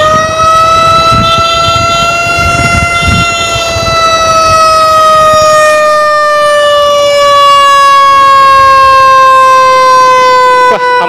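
An ambulance rushing an urgent patient through traffic sounds a loud, continuous siren, a long steady wail that slowly falls in pitch over about eleven seconds with road rumble beneath.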